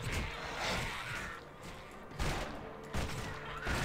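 Gunfire in the action role-playing video game Torchlight 2, rapid volleys of shots and impacts in dense bursts, with thuds and crashes mixed among them.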